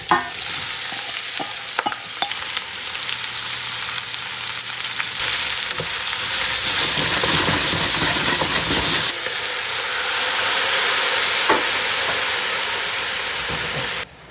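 Butter sizzles and fries in a hot pan for a home cooking session, a steady loud crackling hiss with occasional stirring clicks, swelling louder midway and running to the end without talk.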